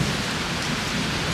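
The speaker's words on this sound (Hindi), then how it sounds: "तो दोस्तों बहुत अच्छी बारिश आ रही है" Heavy rain pours down in a dense, even roar of drops hitting surfaces, loud and unbroken from start to finish with no voices.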